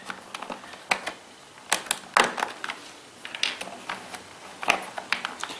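Keycaps pried one by one off a dirty membrane PC keyboard, giving sharp plastic clicks and snaps at irregular intervals, close up and with no talk.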